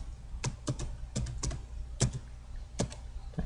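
A username and password are typed on a computer keyboard: a handful of crisp key clicks in short bursts with brief pauses, close and quiet, with no talk.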